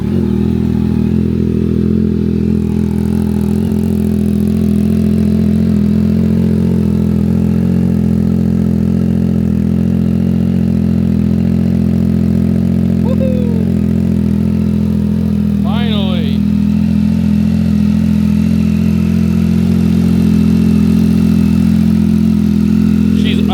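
A Yamaha MT-09 SP motorcycle with a Kelpi exhaust, DNA intake and tune, idling after a cold start: a loud, steady low rumble with fast engine pulses, plus a few brief clatters and chirps partway through.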